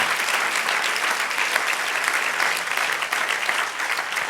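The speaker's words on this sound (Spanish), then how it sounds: "Amén, dale aplauso." A church congregation bursts into loud, dense applause during a Spanish-language sermon, a continuous roar of many hands clapping close and full throughout.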